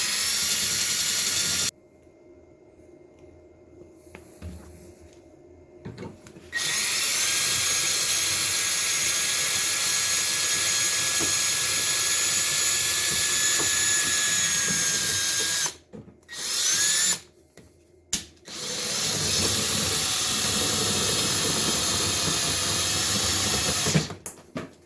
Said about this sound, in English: Now I'm going to finish off with a 3/8 drill bit.